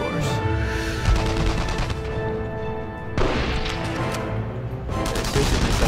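Heavy artillery fire in the World War II shooter Enemy Front, with 88 mm shells falling: continuous loud booms and gunfire crackle, dense and rumbling throughout, with a sharp burst of explosions partway through.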